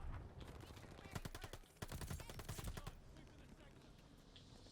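Rapid automatic bursts from an MP40 submachine gun in Call of Duty: Vanguard, a few clustered volleys of sharp shots up close, fairly quiet overall.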